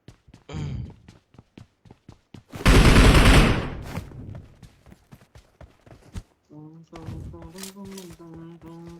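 Video game gunfire: sharp rapid shots in a dense burst with spaced single pops, heard alongside people talking.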